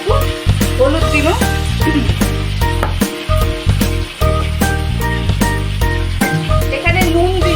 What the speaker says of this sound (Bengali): আমি এটা দিয়ে এবার নাড়ছি